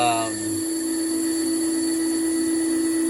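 Nakamura CNC turning center cutting a part, taking a sixteenth of an inch per pass: a steady, loud machine whine with strong tonal hum that holds continuously throughout.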